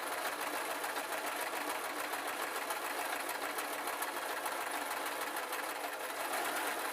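A sewing machine stitching fake fur slippers runs in a fast, continuous, even chatter from start to finish, close and clear with no talking.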